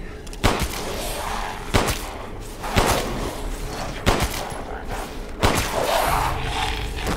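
Gunshots ring out in the virtual reality game Resident Evil 8, five sharp, loud reports spaced about a second apart over a steady rumbling background.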